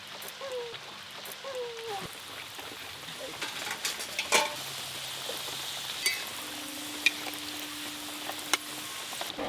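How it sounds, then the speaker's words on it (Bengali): Palm-fruit malpua and saptapuri pitha frying in oil, a soft continuous sizzle with occasional clinks of a utensil against the pan and faint background tones, fairly quiet and without talk. "এইগুলোও সব ভালো করে ভাজা হয়ে গেল।"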